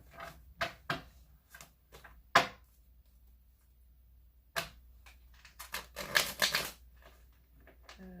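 Tarot cards being shuffled in several quick bursts of papery riffling and slapping, separated by short pauses, close up in a quiet room.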